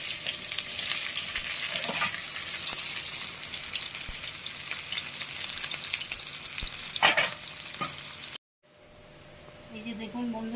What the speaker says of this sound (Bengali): এই দেখুন বন্ধুরা, তেল গরম হয়ে গেছে। এবার কচুরলতি পেঁয়াজ আমি দিয়ে দেবো একটা।